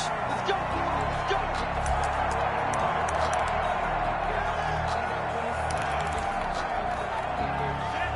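Stadium crowd cheering in a Madden football video game before a Buffalo Bills versus Miami Dolphins matchup, a dense, steady roar of a large crowd that runs continuously and fairly loud, likely with a commentator's voice mixed in.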